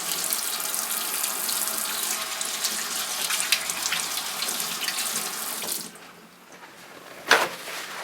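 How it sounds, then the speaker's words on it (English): Running tap water pours steadily while hands are washed at a sink, a continuous loud splashing hiss for about six seconds that cuts off abruptly, followed by a brief clatter after a quiet moment. "I'm going to wash off my hands real quick."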